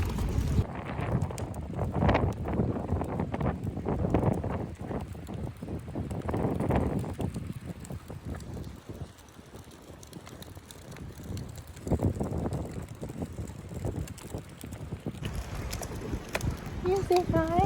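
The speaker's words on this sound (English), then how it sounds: "Pretty windy out, got a wind advisory." Strong, gusty wind under a wind advisory buffets the microphone during a family walk on military base housing trails, a steady low rumble swelling and easing throughout, with voices now and then.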